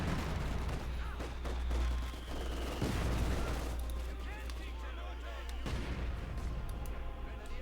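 Granatenwerfer mortar fire in Company of Heroes 2, heard as dense, repeated battlefield booms and cracks mixed with other gunfire across the whole stretch, with a steady low rumble underneath and some voices.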